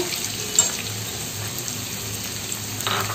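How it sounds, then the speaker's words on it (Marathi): Onion hits hot oil in a pan for a dry shrimp dish and gives a steady, moderately loud sizzle and hiss, with a soft clatter near the start and some stirring toward the end. "आता आपलं तेल गरम झालंय तर आपण आता कांदा टाकून घेऊया"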